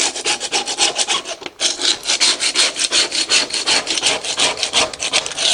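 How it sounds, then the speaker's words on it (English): Old rubber stair tread residue being scraped off a step gives a rhythmic rasping scrape of repeated strokes, loud and close, with a brief pause before the strokes carry on. "we want to scrape off"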